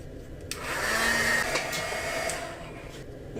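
A hair dryer whirs steadily for a few seconds, drying acrylic paint on an art journal page, starting abruptly and fading off near the end, close and fairly loud with no talk.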